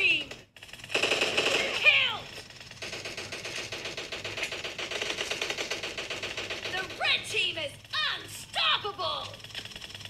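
Rapid gunfire bursts from PUBG Mobile gameplay played on a Xiaomi Redmi 9T, loud repeated rattling shots across most of the clip with brief pauses, with someone talking over it.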